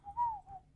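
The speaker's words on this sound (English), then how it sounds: "Can I whistle into the microphone while this is happening?" A single whistled tone into a microphone, rising then gently falling in pitch, repeated as two short phrases, clear and close with no talk.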